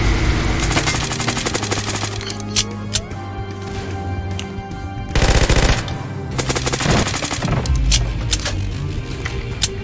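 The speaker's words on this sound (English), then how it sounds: "put the muzzle brake on the heavy machine gun" Heavy machine gun fitted with a muzzle brake firing in the Roblox zombie game, with loud sustained bursts of rapid automatic fire repeating over several seconds over a busy game soundscape.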